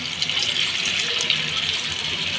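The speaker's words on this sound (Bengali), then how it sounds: "তো এবার দিয়ে দিচ্ছি পরিমাণ মতো জল।" Tap water runs steadily into a cooking pot holding garlic, making a continuous close splashing gush with no voices.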